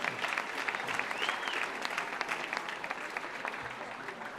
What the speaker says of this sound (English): how about a round of applause for all the fine things she does in the community